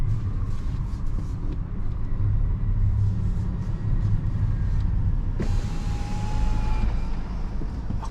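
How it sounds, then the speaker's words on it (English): A Peugeot 208 48V hybrid car of 2024 driving at night on electric power alone, giving a low, steady cabin rumble of road and tyre noise, with a thin electric whine entering partway through. "are now driving with just electric power, and it's very impressive 48-volt hybrid powertrain"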